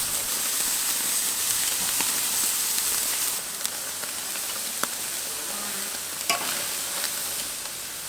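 Marinated flank steak (bavette) fries in a hot pan with a loud, constant sizzle and hiss, broken by a few sharp pops and spatters, and no voices.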